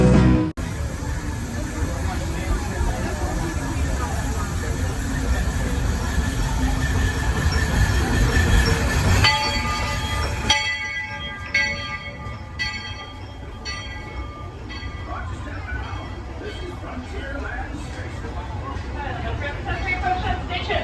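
The Walt Disney World Railroad train rumbles steadily along the rails, then squealing wheels and a rattling carriage take over as it slows, heard from on board.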